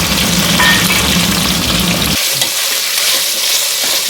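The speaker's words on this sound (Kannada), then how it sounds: "ಮೂರು ಈರುಳ್ಳಿನ ದಪ್ಪದಾಗಿ ಹೆಚ್ಕೊಂಡಿದ್ದೀನಿ ಅದನ್ನು ಕೂಡ ಸ್ವಲ್ಪ ಫ್ರೈ ಆಗಲಿ" Thick-sliced onions fry in hot oil in a pan, a loud steady sizzle with some stirring. About halfway through, the low rumble drops away and a lighter, crackling hiss carries on alone.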